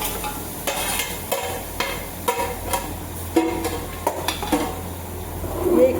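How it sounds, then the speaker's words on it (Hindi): Akhni stock is poured into a pot of sizzling garlic-ginger paste and garam masala, giving a steady sizzle with stirring scrapes and clinks of utensils against the pot, and a few brief quiet voices in between. "अब इसमें जो है अखनी डालते हैं"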